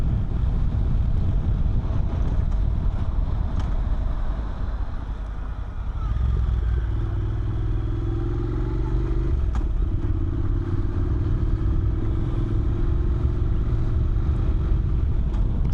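A Honda NC700X motorcycle rides through the Coral Gables downtown streets, its steady engine drone heard up close and continuously beneath heavy wind rush across the microphone, with a slight dip and recovery in engine note midway.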